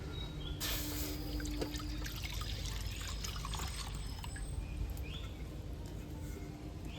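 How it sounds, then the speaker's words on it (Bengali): Milk poured into a cleaned pan on the stove, a continuous close liquid pour and trickle, for making milk malai sandesh. "আমি আবারও উনুনে কড়াটা পরিষ্কার করে বসিয়ে দিয়েছি যেই পাঁচশো দুধরা রেখেছিলাম সেটা দিয়ে দিচ্ছি"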